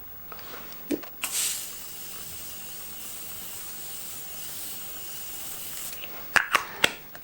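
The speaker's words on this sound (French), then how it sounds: "Mon spray de chez Morphe." Short hissing bursts of Morphe setting spray misted at close range, one brief puff, then a long steady spray of several seconds, and finally a few quick sharp spritzes, with no voice.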